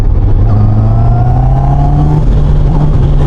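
A 2025 QJMotor RACE 600RS sport motorcycle engine revs loudly and steadily up close in third gear, its pitch climbing gradually as the throttle opens lightly, with no other sounds over it.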